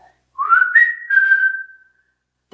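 A clear, close whistled tune of a few sustained, gliding notes, loud and alone against silence, rising then held and slowly fading.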